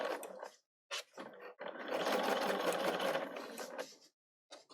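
A Bernina 770 sewing machine runs top stitching along a fabric edge, whirring in several short bursts and then in one longer steady run, close and fairly quiet.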